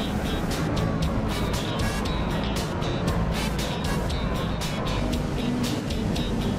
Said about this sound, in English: Let's have a look at these classic minis racing around London.